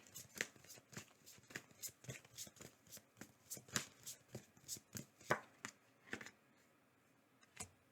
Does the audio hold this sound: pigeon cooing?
no